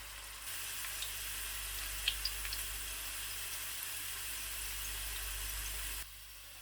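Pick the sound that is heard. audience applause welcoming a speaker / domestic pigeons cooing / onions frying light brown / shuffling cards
onions frying light brown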